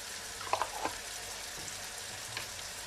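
Spices with a couple of pinches of fenugreek powder sizzle and fry in a pan, a steady faint hiss with a few soft stirring clicks near the start.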